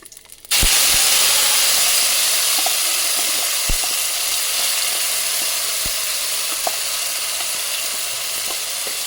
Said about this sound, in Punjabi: ਸਾਰੇ ਮਸਾਲੇ ਭੁੰਨ ਚੁੱਕੇ ਹਾਂ ਮਸਾਲੇ ਮਤਲਬ ਕਿ ਪਿਆਜ਼ ਅਦਰਕ ਲਸਣ